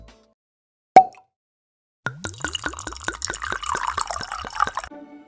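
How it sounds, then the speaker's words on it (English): Wine glugs out of a bottle down a sink, close and clear: a rapid, even run of gurgling pulses for about three seconds, preceded by a single sharp click. "ended up pouring it down the sink"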